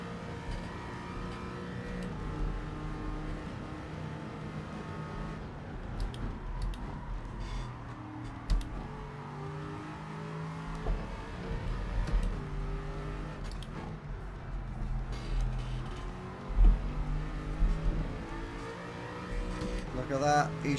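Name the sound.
race car driving in the video game Gran Turismo 7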